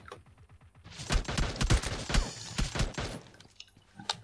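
Gunfire in PUBG Mobile: a rapid burst of automatic shots, loud and sharp with short echoing tails, tapering into a few scattered shots at the end.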